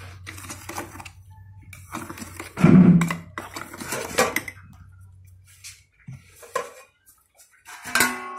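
Ground dry fruit mixture for laddu being tipped and scraped into a big bowl, with clinks and clatters of metal utensils against the dish, a louder knock near the middle and scattered scraping, close by without speech.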